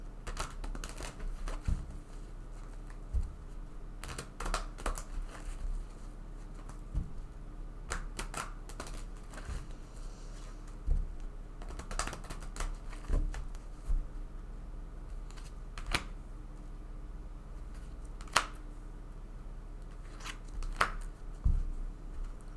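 Tarot cards are drawn and handled at close range, giving soft scattered taps, flicks and shuffling snaps that come in irregular bursts over a quiet low hum, with no talking.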